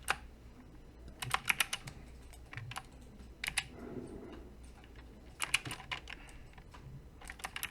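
Quick taps on a computer keyboard while shortcuts are entered during 3D modeling work: short clustered clicks and key presses, close and fairly quiet, with small pauses between bursts.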